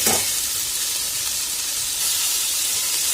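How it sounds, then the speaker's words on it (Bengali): Potatoes and carrots fry in a pan over high heat, giving a loud, dense, continuous hiss that holds steady from start to finish with no talking. "প্রথমে গ্যাসের হিটটাকে একটু বাড়িয়ে খুব ভালো করে ভেজে নিচ্ছি 1 মিনিট।"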